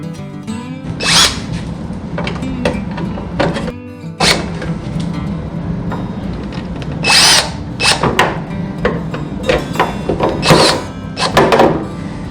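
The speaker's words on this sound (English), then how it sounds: "And tighten them up with our drill and nut driver bit." A power drill fitted with a nut driver bit drives sheet metal screws into gutter downspout sleeves, with repeated loud whirring bursts and clunks spread through the stretch, close up and with no talking.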